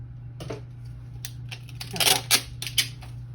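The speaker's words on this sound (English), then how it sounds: "I'm going to grab a little bit of Scotch tape here" Scotch tape is pulled and torn from a roll for a DIY gift card craft, heard as a series of close, sharp crackling rips and clicks of irregular rhythm over a low background hum.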